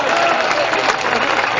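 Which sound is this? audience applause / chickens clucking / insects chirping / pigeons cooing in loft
audience applause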